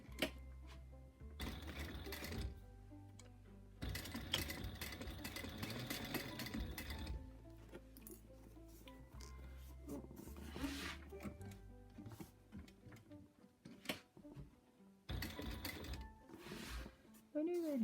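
A sewing machine basting fabric between 1/8 and 1/4 inch, running in several bursts of rapid mechanical stitching with short pauses, close and fairly loud, with a person talking at times.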